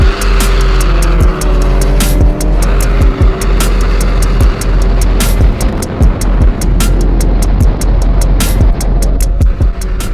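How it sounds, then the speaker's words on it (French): A snowmobile at a ski resort roars close and loud, its engine revving hard as it accelerates. The motor noise stays dense and continuous, with sharp bursts layered over the steady drone. "Oh là, la motoneige, mec, mais c'est un monstre!"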